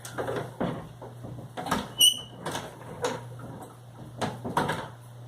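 A cabinet door in a home makeup setting creaks and knocks repeatedly, several short squeaky opening and closing movements close by, one bright high squeal in the middle, with soft bumps and clatter around them.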